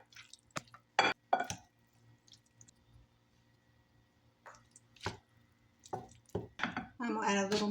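Food is stirred together with dried Parmesan cheese in a bowl, giving close, wet squishing and scraping bursts that come and go in irregular clusters.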